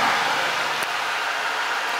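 A 2022 Chrysler Pacifica minivan engine idles steadily after a remote start, a constant broadband hum and hiss at close range with no talking.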